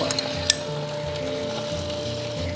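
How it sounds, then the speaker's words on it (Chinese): Marinated pork ribs sizzling as they go into a clay pot of rice on a low flame, a steady close crackle of frying with a brief clink near the start and no talk. "然后下入腌制好的排骨。 朋友们，下排骨的话就是转小火，"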